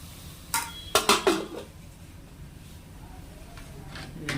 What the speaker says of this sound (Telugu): ఇప్పుడు మూత పెట్టుకొని